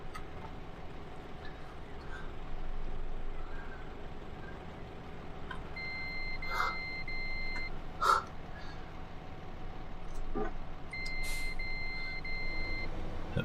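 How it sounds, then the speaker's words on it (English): Reversing beeps from a service vehicle in the game Churn sound in two short bursts of steady tones over a low engine hum, with someone talking over them. "That bleep then, because I got a little bit of throttle before I went forward."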